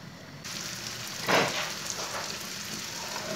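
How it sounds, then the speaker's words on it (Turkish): Soft sizzling in a hot pan, with a brief louder burst of frying as chopped mushrooms are added, then a steady low crackle. "Mantarımı doğrayayım şöyle hemen soteme ilave edeyim."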